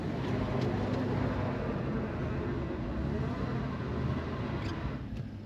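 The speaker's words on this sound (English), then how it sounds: "I can't even get going on this hill. It just spins in place. It's so icy." A car sits on an icy hill with its wheels spinning in place, producing a steady, loud engine drone and rumbling road noise that holds constant for several seconds, with no talk over it.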